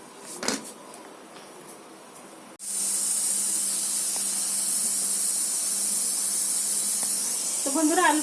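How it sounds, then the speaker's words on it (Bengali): A pressure cooker boiling potatoes gives a loud, continuous steam hiss that starts abruptly after a quiet stretch of kitchen noise and holds steady to the end. "আলুটা প্রেসারে সিটি মেরে সেদ্ধ করে নেব"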